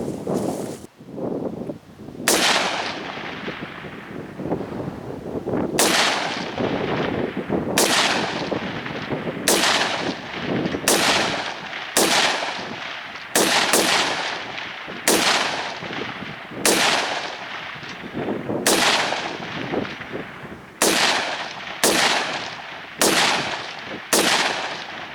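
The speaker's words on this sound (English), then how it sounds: "I'm gonna try it again and hold for some windage this time, see if I can get some more impacts at 300 yards." Gunshots from a Springfield Saint AR-15 pistol in 5.56 fired at targets 300 yards away: around fifteen sharp, loud reports spaced a second or two apart, each trailing off in an echo outdoors.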